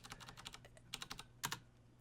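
Computer keyboard typing while entering numbers into a C# program, a steady run of quick, crisp key clicks, faint and close, in short bursts with brief pauses and no talking.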